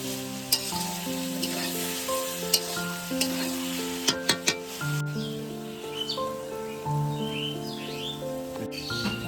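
Banana flower curry sizzles and fries steadily in a pan while being stirred, with scraping clinks of the spoon against the metal, a continuous close crackle, and faint bird calls in the background.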